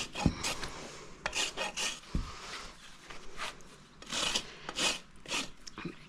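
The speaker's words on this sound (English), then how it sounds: "The rasp can be a funny feeling." A rasp files a neglected pony's hoof during trimming with steady rhythmic strokes, close and scratchy, repeating through the whole stretch with no talk.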